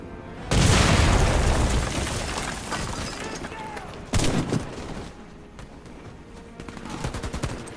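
Loud in-game explosions and bursts of gunfire in the free-to-play shooter Warface on PS4, with a big blast opening, a second boom near the middle and rattling shots toward the end.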